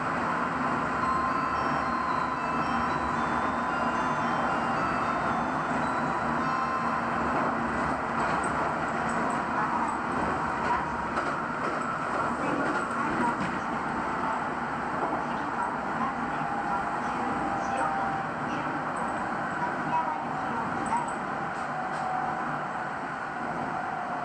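A train running steadily on the line into Utazu station, a continuous even rumble and hum of wheels and motor heard from inside, unbroken for the whole stretch.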